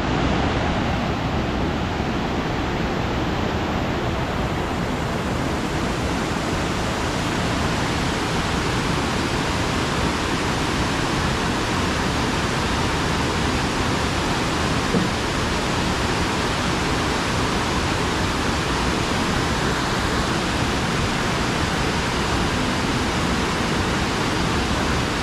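Broadband steady roar of a waterfall in Munnar, loud and continuous throughout with no talk, water thundering down close by.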